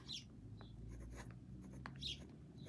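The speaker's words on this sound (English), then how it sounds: "You can see how smoothly this is writing." Fine-nib Jinhao 10 retractable fountain pen writing on paper, soft close scratchy strokes in short irregular bursts, very quiet.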